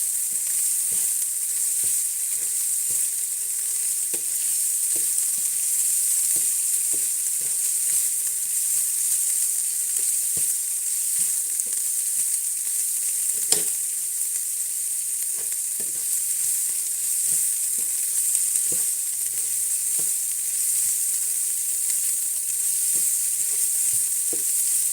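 Onion softening in a pan for Thai tapioca pork dumplings, a steady close sizzle with soft stirring clicks scattered throughout and no voices.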